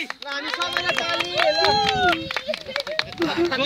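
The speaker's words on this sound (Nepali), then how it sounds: "हामी सबैलाई ताली।" Clapping from a crowd at a Christmas church gathering, a short burst of applause mixed with chatter and a voice speaking over it.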